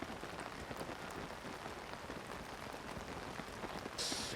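Steady rainfall in The Legend of Zelda: Tears of the Kingdom, a dense even patter of drops on surfaces continuing throughout at moderate level with no talk.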